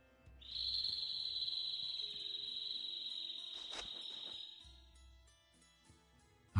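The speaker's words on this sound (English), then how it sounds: "A bird? In this desert? It sounds close." A bird call in the video game Tales of Vesperia, set in a desert: a sustained high whistling trill holds steadily for several seconds, then fades, alone without talk.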